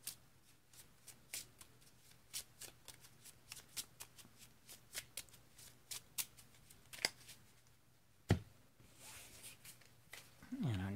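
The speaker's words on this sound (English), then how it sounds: "Let me go ahead and shuffle the deck here." Pokémon trading card deck shuffled by hand during a game, a steady run of crisp riffling card snaps for most of the stretch, with a brief louder handling burst near the end.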